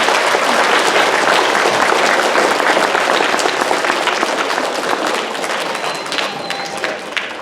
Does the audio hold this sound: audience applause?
yes